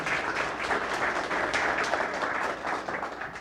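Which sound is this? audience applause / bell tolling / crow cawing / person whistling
audience applause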